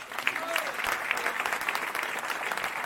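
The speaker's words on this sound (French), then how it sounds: "applaudissez pour lui" Audience applauding at an event at the Hilton hotel in Pointe-Noire, a steady dense patter of clapping that holds throughout at moderate level, with faint talk underneath.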